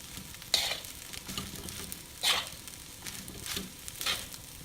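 Balinese fried rice tossed and stirred in a hot pan, giving a steady low sizzle with four sharper scraping bursts of the utensil against the pan, spaced roughly every second and a half, with no talking.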